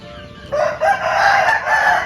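A fighting cock crows once, a loud, close, drawn-out cock-a-doodle-doo rising after a brief quiet start and stretching across most of the moment.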